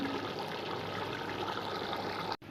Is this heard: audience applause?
no